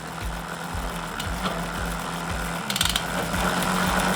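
A Shimano Di2 electronic derailleur on a bicycle is adjusted in shifting mode, giving soft repeated mechanical ticks and a light whirring, with faint clicks near the middle and no talking.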